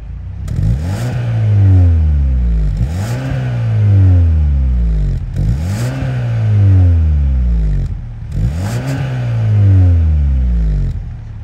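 The 2.5-liter turbo engine of a 2023 Hyundai Sonata N-Line revs repeatedly through its quad-tip exhaust, giving four or five loud, close rising-and-falling throttle blips in a steady rhythm with no talk.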